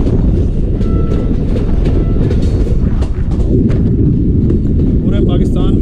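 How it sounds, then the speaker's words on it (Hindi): Pakistan Railways passenger train running downgrade on the Quetta to Chaman line, a loud steady close rumble and rattle of wheels and carriages, with faint metallic clicks and squeals above it throughout. "चमन अप्रोच कर रही है हमारी ट्रेन और डाउनग्रेड के ऊपर ट्रैवल कर रहे हैं"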